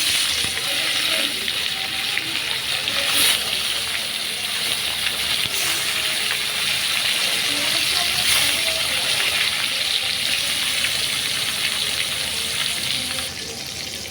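Tilapia fish fries in hot oil in a home kitchen, giving a steady hissing sizzle with bubbling that stays even throughout, with no speech over it.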